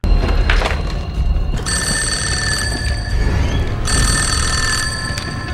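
A telephone bell rings in two loud bursts separated by a pause, over a steady background hum.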